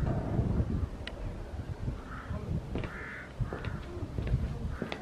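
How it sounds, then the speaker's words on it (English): A flock of crows calling outdoors, repeated harsh caws overlapping at moderate distance over gusty wind noise and rustling, with no talk. "Suddenly there's a lot of birds there."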